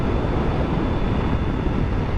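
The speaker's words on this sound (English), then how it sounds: "Well, it is pretty windy." Strong wind on open cattle range buffets the microphone in a continuous low roar, loud and steady throughout with no other sounds standing out.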